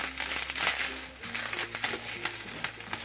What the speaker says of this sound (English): I'm trying to take out the plastic.